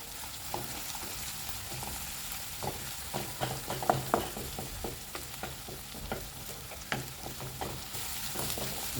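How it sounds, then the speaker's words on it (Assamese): Finely chopped onions with green chillies fry in oil after garlic, cooking toward golden. The sizzle is steady and close, broken by repeated clicks and scrapes of a spoon stirring in the pan, with no voices. "এতিয়া পিঁয়াজখিনি গল্ডেন হোৱালৈ ভাজি থাকিম"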